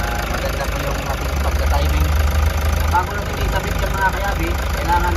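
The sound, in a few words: Toyota Hiace 2018 engine idling after timing belt change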